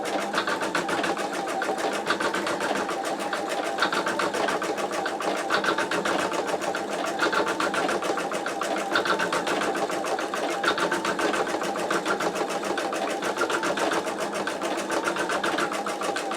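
An embroidery machine stitches a design with a MagnaHoop 8x8 inch magnetic hoop fitted, giving a steady, rapid mechanical chatter that runs unbroken at moderate loudness with no talk.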